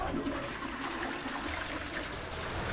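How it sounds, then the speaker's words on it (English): Toilets aboard a large ferry flush together in a continuous rushing, gurgling wash of water that stays steady and fairly loud throughout, with no voices. "They're all flushing nicely, running away nicely."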